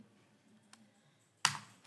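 Keys tapped on a computer keyboard, a faint single click followed by a louder clack, close and without talk.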